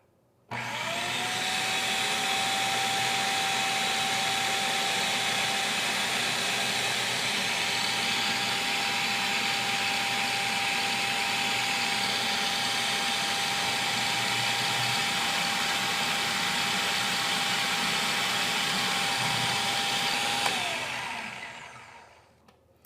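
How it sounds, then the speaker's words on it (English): Food processor motor whirring steadily for about twenty seconds while olive oil is poured in, a constant loud hum that starts abruptly and winds down at the end, with no talking. "we're going to add this pre-measured olive oil into the food processor as it's running"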